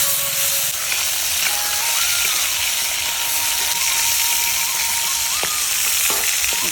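Freshwater fish such as prawns or stinging catfish sizzle lightly in hot oil with a steady, dense crackle, close by and loud, with occasional metallic scrapes from stirring.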